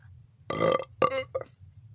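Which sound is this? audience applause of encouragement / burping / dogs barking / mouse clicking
burping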